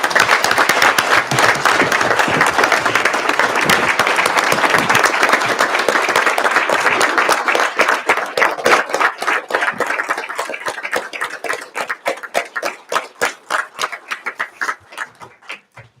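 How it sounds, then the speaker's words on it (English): Applause fills a committee meeting room for the wives of honored men, loud and dense at first, then thinning into separate claps that fade out over about sixteen seconds. "Let's give them a round of applause."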